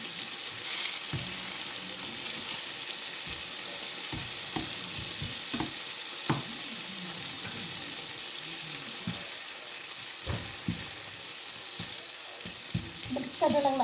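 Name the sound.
dried fish (bulad) frying in a pan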